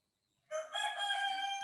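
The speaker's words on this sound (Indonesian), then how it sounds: "Sorry, ada suara ayam jago berkokok." A rooster crows loudly and close by, one sustained cock-a-doodle-doo that starts after a brief silence and carries on to the end.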